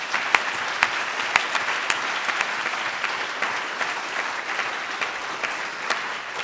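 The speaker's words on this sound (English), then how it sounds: "let's give them another clap" Audience applause at a poverty-focused hustings evening, a steady sustained clapping from a crowd with sharp individual claps standing out, continuous and fairly loud throughout with no talk.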